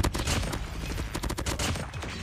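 Rapid, steady automatic fire from a Groza assault rifle in a shooter game, a dense run of close, loud shots lasting the whole stretch, with no voices.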